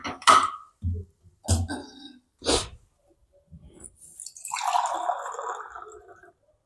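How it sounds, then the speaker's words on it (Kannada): Water is poured into a pot for Maggi noodles in a steady splashing stream lasting about two seconds, after several short knocks and clatters in a quiet kitchen. "ಅದಕ್ಕೆ ನೀರು ಹಾಕ್ತೇನೆ ರೀ"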